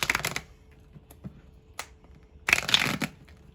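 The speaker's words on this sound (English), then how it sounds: "being guided to riffle shuffle once." A deck of tarot cards riffle shuffled twice, two quick ratcheting bursts of flicking cards separated by a quiet pause with small handling taps.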